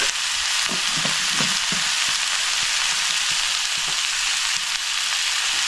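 Kurdu wild greens fry in a pan as they are stirred, giving a loud, steady hiss with scraping and clinking from the stirring, close up and without any talk.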